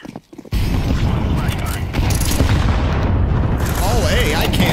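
In a shooter video game, a grenade explosion bursts in suddenly after a short quiet moment and rolls on as a loud, sustained rumble. A player's voice is heard faintly over it.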